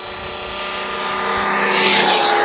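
A high-end RC truck's electric motor running flat out in the open, giving a constant high whine that grows steadily louder over a couple of seconds.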